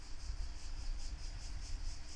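Cicadas chirping on a balmy morning in Evia, a faint, steady pulsing buzz repeating evenly over a soft low background hum, with no voices.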